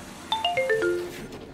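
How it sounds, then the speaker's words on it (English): A chiming notification timer alert sounds during a Star Wars Jedi: Fallen Order gaming session, a quick descending run of five bright bell-like tones that ring out and fade, loud and close with no talking. "It's just a notification timer's telling me"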